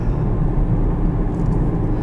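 Exhaust of a 2020 Chevrolet Camaro SS V8 muscle car, a heavy deep rumble with a throbbing low burble, loud and close, steady over the brief moment without any talk.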